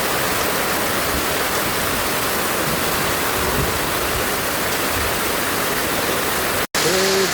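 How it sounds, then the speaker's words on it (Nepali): A swollen stream rushes loudly in front of a house, a steady, dense roar of flowing water that fills the whole clip before a brief cut near the end. "यहीँ घर अगाडि पुरै खोला हुन्छ क्या अहिले हेर्नु यहाँ कति धेरै बगेको"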